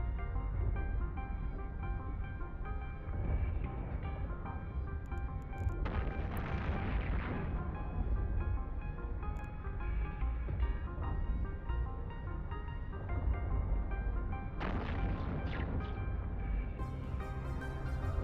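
Battleship weapons fire in a space combat video game: continuous loud rumbling booms and blasts, with heavier bursts standing out from a dense, steady barrage and no talking.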